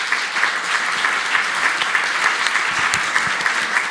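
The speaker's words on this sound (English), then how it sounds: "So perhaps a round of applause for our panelists." Sustained audience applause for the panelists closing a sustainable food forum panel session, steady dense clapping from a sizeable crowd filling the whole stretch without pause.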